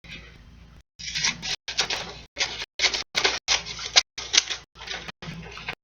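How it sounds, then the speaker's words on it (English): Scissors snipping through paper to make paper fur, a quick series of about ten crisp, close cuts in a fast, even rhythm with short silent gaps between them. "You're going to keep cutting."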